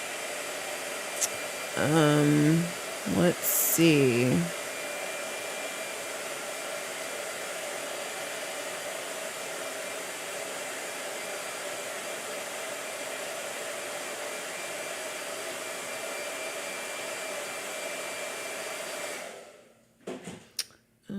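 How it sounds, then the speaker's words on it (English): A handheld blow dryer runs continuously for nearly twenty seconds as it dries gouache paint on paper, then switches off. A voice speaks briefly near the start. "you'd be watching paint dry if he didn't use a blow dryer"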